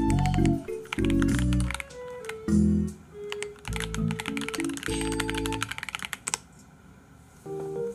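Computer keyboard typing, close and clear, rapid clicking keystrokes in bursts with short pauses, and the final second goes quieter with a few scattered taps.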